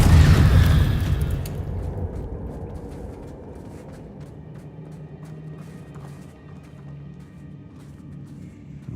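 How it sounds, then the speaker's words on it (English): A Confringo spell blast in Hogwarts Legacy goes off as a loud booming explosion at the start, then fades into a long low rumble with scattered crackling debris. "Confringo!"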